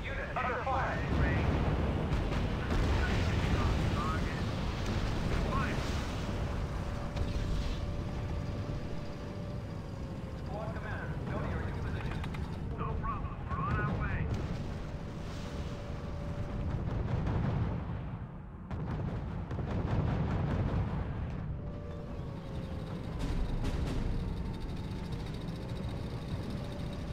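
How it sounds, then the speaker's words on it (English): Continuous battlefield din in the strategy war game R.U.S.E., with bombing explosions and gunfire rumbling densely throughout, dense low booms layered under game voice lines. "Command has ordered the bombing of the city"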